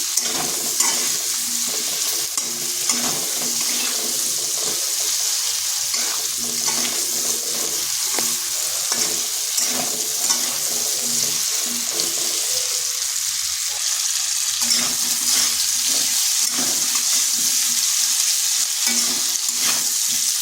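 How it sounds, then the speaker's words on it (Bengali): Steady hiss of potatoes lightly frying in a pan, continuous and close, with occasional stirring scrapes and no talking. "হালকা একটু ভেজে নিচ্ছি।"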